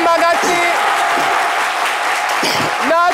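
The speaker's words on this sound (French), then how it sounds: "Merci d'applaudir très fort pour Souleymane Camaraté" Studio audience on a midday TV talk show applauds a guest, loud sustained clapping from many hands while a voice talks over it at the start and end.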